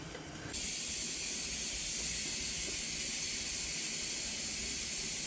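A pressure cooker releases steam while chicken rassa cooks inside, a loud, steady hiss that bursts in after about half a second and carries on unbroken to the end, with no voices.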